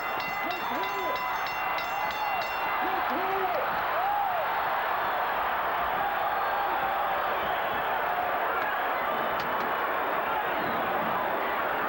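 Arena crowd at the Evander Holyfield versus Riddick Bowe heavyweight rematch rising to its feet, a loud sustained roar of cheering and applause with whistles, filling the whole stretch.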